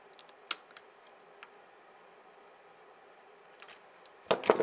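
A knife cuts through a tough plastic wire tie bundling computer wires: a few faint ticks and clicks, then a louder scraping snap close to the end.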